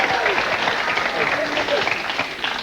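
A television studio audience applauds steadily throughout, a dense wash of clapping with crowd voices mixed in.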